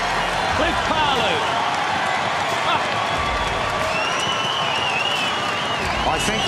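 A rugby crowd roars, cheers and applauds loudly and continuously after a try, with dense clapping and whistles. Commentators can be heard talking over the noise.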